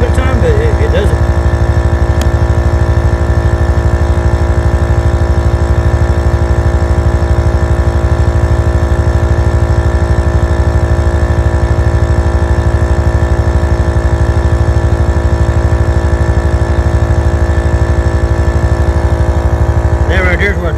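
A cheap portable UTV air compressor runs steadily while inflating a tire, giving a loud, constant motor drone with a fast, even pulsing buzz that continues unbroken throughout.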